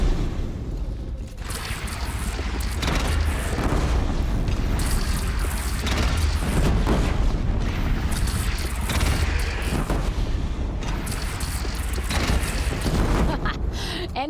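Cannon fire and booming battle noise in the Horizon Zero Dawn video game during a fight at the Hunter's Lodge, a loud, continuous dense roar with repeated blasts, voices talking over it.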